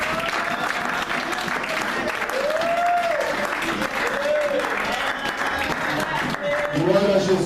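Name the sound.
church congregation applauding and cheering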